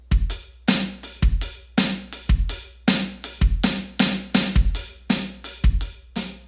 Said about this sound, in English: we're going to do 3 snares with the hi-hat.